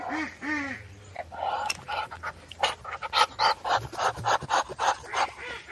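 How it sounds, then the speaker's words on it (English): A male Muscovy duck's breathy, raspy hissing in quick repeated puffs, like a dog panting, close up after a couple of short calls. "this is a male Muscovy hissing"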